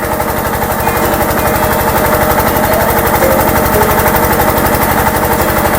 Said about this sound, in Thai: นี่คือท่อดูดน้ำด้วยเครื่องยนต์นะคะ เข้าไปในนาข้าวค่ะ